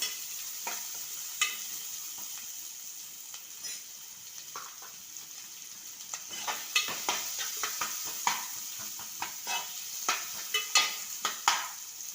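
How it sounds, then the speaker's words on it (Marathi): Onions frying and browning in a pan for a spicy crab masala, a soft continuous sizzle broken by frequent close spatula scrapes and clinks that grow busier toward the end, with no voices. "कांदा पण आपल्याला चांगला लालसर करून घ्यायचा आहे।"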